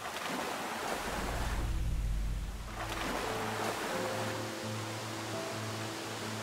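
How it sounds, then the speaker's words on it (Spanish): A waterfall in the video game Espíritu del Norte gives a steady rushing wash of falling water with a deep low rumble, swelling briefly before a soft tonal musical score drifts in over it. "Que al parecer es una especie de cascada que lleva a algún sitio."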